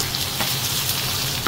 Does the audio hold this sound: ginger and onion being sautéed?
yes